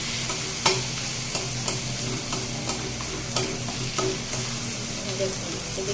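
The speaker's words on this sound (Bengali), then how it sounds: "এভাবে বেশ নেড়ে চেড়ে রান্না করতে হবে।" Taro leaves (kochu shak) fry in a pan with a steady close sizzle, punctuated by regular scraping strokes and light taps of a spatula stirring them; no talking.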